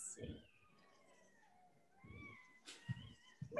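A cat gives a long, wavering meow that slides up and down, fairly quiet and close, with a few soft knocks and bumps around it and no talk.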